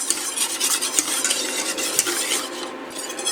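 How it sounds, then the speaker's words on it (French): A spoon stirs a cornstarch and liquid mixture in a saucepan for a white chocolate almond cake, giving close, rapid scraping and clinking against the pan in a steady rhythm with no voices. "Il faut bien la remuer et ensuite vous la posez sur votre plaque pour ne pas que ça brûle en dessous."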